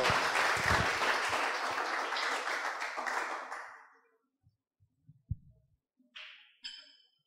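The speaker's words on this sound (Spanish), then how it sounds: "Démosle un aplauso al Eterno" An audience at a Spanish-language religious lecture on Hebrew letters claps in praise of God, a dense burst of applause lasting about three and a half seconds before fading into near silence broken by a few soft knocks.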